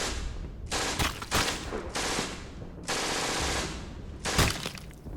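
Several bursts of rapid machine gun fire from British weapons, loud and close, with short pauses between volleys and sharp cracks in each burst.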